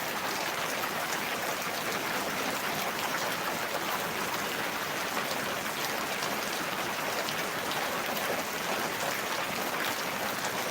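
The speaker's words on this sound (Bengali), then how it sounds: "আমি ঘরের চালে দেখাই কীভাবে বৃষ্টি পানি পড়তেছে" Steady, moderate rain patters on a village house roof with an even hiss that never lets up.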